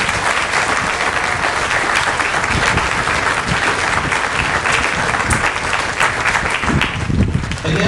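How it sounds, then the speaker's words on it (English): A crowd at a Marine Corps graduation ceremony for Echo Company gives loud, vigorous applause for the new Marines, dense close clapping with sharp individual claps standing out and a few cheers mixed in throughout. "Let's give them a round of applause."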